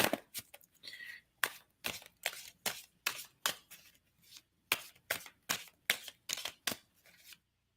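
Tarot cards are shuffled in a quick series of sharp riffling bursts, close and crisp, with short pauses between them and no voices.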